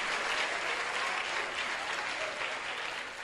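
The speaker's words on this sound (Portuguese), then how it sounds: "aplauda o nome dele" A church congregation claps during a sermon, a dense, continuous wash of applause that stays full and even throughout before easing slightly at the end.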